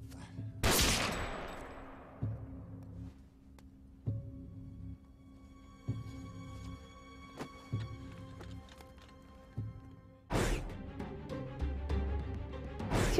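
Gunfire rings out in a TV spy drama scene, with two loud sharp bursts near the start and end, separated by quieter scattered knocks and clatter.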